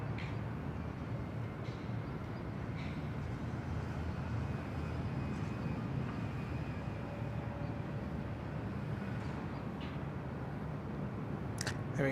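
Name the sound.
airplane arriving at Bangkok Suvarnabhumi Airport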